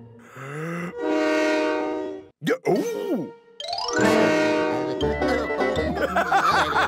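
A loud toy whistle toots several times in rising and falling tones, imitating a train horn, with a brief voice-like sound between blasts, in the cartoon Noddy in Toyland.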